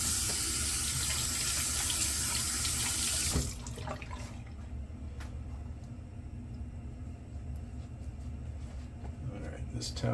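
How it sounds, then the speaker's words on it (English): Tap water runs into a sink to wet a hot towel for a head shave, a loud close gush lasting a few seconds before the tap shuts off, leaving quieter room noise with light handling sounds. "Alright, this towel is wet."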